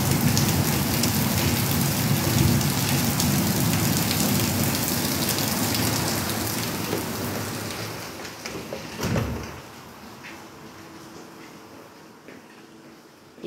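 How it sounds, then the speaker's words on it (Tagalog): Heavy rain pours steadily on surfaces around a house with a garden and car park on a rainy morning, a dense loud wash that slowly eases, with a brief bump partway through. "Lakas ng ulan."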